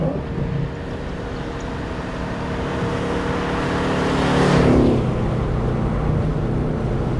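A 1962-67 Chevy Nova on a SPEC chassis accelerating hard through a 1-2-3 gear shift on a road, a loud, continuous engine roar that climbs and swells toward a peak, then eases off.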